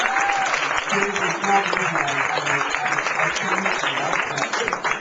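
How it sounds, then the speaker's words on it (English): Dense audience applause fills a room after a speaker's turn at a book event, steady and loud throughout with some voices mixed in underneath. "Can we please give a round of applause"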